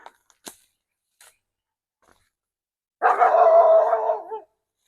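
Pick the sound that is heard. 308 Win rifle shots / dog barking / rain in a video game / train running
dog barking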